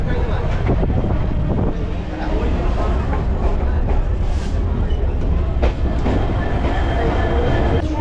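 A local train running from Kolkata towards Namkhana rumbles loudly and steadily from inside the carriage, with rattling wheels, wind buffeting and occasional clanks, and no clear talk over it.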